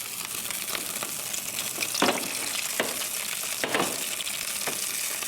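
Food frying in a pan with very little oil, closer to baking than frying, gives a steady close crackling sizzle with a few brief louder scrapes or stirs, no voices.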